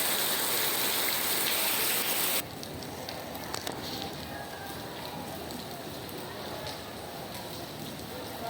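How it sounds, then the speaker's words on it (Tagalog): Heavy rain pours down in a dense, loud hiss, very intense at first and then easing to a steady downpour with scattered sharper drips. "Lakas ng ulan"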